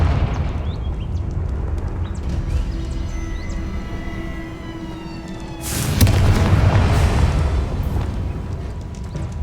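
In the game Hogwarts Legacy, a Confringo fire spell goes off with a loud, broad booming burst about two-thirds through, after quieter rumbling and whooshing game ambience.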